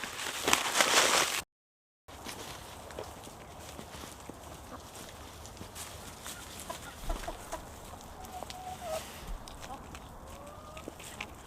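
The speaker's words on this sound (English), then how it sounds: "I love my chickens" Backyard chickens at a home garden with worm bins in San Diego, giving scattered soft clucks and squawks over a steady outdoor ambience, moderately distant and fairly quiet throughout.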